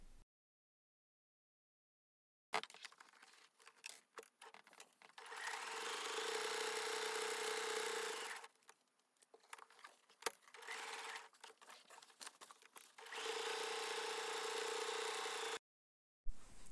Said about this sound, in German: Dann nähst du den Gurt auf dem Taschenteil fest.